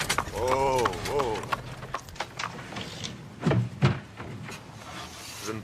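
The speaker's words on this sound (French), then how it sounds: "Je ne peux pas laisser le cheval ici." A horse shifts and steps nearby, with a few hoof knocks and rustling movement, interspersed with a snort-like sound and occasional talk.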